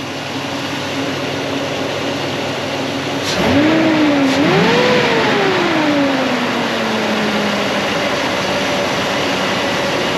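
A car engine idles steadily after start-up, close and moderately loud, with a brief rise and fall in revs from a quick throttle blip partway through, then settles back to a steady idle.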